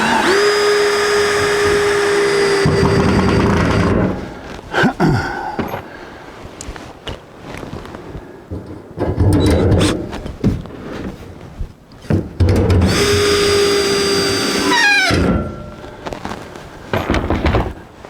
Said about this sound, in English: Put 2 screws in on the other side to hold it there.